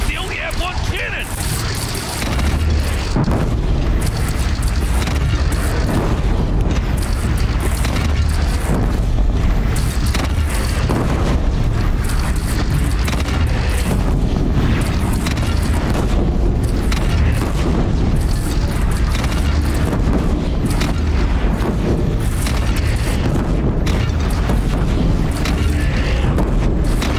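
Cannon fire booms through a battle in the video game Horizon, with a constant heavy rumble and repeated deep blasts under shouted dialogue and combat noise.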